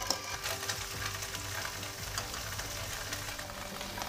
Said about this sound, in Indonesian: setelah minyak panas, masukkan tahu telur ya teman-teman